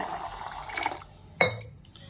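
A brief splash of water poured into a pressure cooker of chickpeas with turmeric and salt, following a few soft kitchen clinks and background rustle; close and short.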